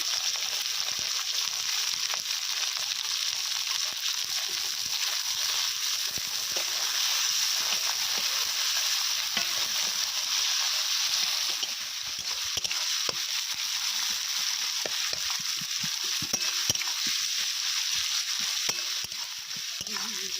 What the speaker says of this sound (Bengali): এরপর দিয়ে দেবো পেঁয়াজ কুচি